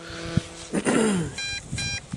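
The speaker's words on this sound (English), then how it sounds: "The transmitter actually lets off noise to let you know that the drone's running out of power." Beeps from a Force 1 drone transmitter warn of low battery, short repeated electronic tones over soft handling noise and a low hum, close and moderately loud.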